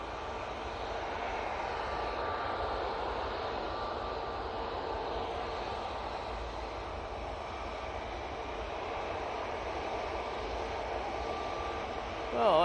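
A passenger airliner at Manchester Airport gives a steady, broad engine roar that holds for the whole stretch, with a louder swell right at the end.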